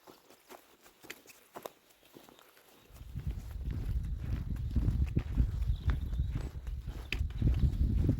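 Hooves of a horse clip-clop at a walk along a countryside trail, a quiet start giving way from about three seconds to steady, moderately close footfalls with rustling over a low rumble.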